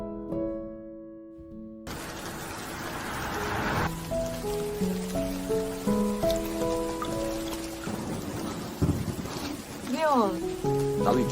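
Rain falls steadily at a bus stop, a dense hiss of drops spattering on surfaces that runs under gentle piano and melodic film score for the whole scene.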